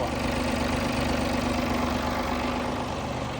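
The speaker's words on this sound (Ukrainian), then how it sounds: "Поміняли фільтр воздушний, заводимо." A 16-horsepower Iseki tractor engine, fitted with a new air filter, runs with a steady, loud, continuous droning idle throughout, with no voices.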